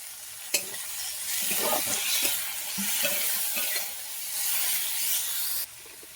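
Tomato and green chili hit a hot pan and get stirred, giving a close, continuous sizzle and hiss with scraping stirring strokes throughout.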